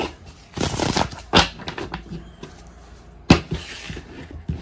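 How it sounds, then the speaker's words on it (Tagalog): A deck of playing cards being shuffled up close, with bursts of riffling and snapping at about one, one and a half and three and a half seconds, and softer handling in between. "balasahin lang po natin"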